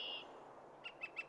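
Northern Flicker calls during a territorial display in Windsor/Essex: one drawn-out call followed by three short, evenly spaced call notes, faint and distant over quiet background.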